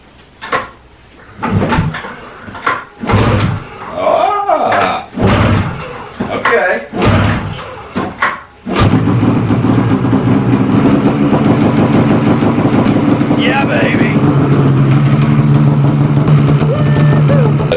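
Polaris Assault 800 snowmobile takes several sharp, clunky pull-start tugs. Its engine then catches and runs steadily and loudly to the end.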